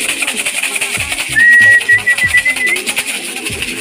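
Pigeons coo at a loft as young birds arrive after a 110 km flight, the soft cooing close by amid steady outdoor noise and a brief whistle.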